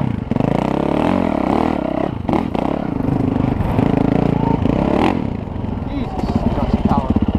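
A 450 dirt bike engine revving hard as the bike climbs a small hill, loud and close and sustained throughout, with its pitch rising and falling and some clattering toward the end; people shout briefly over it.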